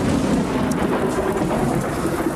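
Steady heavy rain pours down in a thunderstorm, a dense, loud hiss of drops on surfaces with rolling thunder rumbling underneath throughout, no voices.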